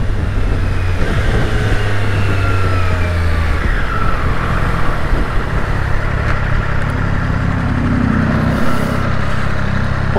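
A 2020 Triumph Street Triple RS engine drones steadily while riding near Port Botany's shipping containers, a continuous loud rumble with pitch sweeps rising and falling as the revs shift.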